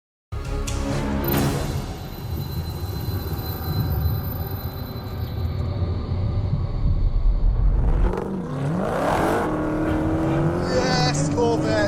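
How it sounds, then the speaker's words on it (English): A Chevrolet Corvette drives with a loud, sustained engine roar and road rumble, rising toward the end where a shifting whine and excited voices break in. "Yes, Corvette!"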